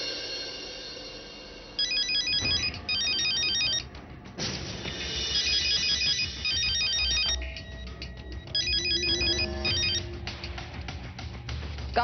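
A phone ringtone plays in repeated electronic bursts of bright chiming tones, loud and close, with brief pauses between rings and background music underneath.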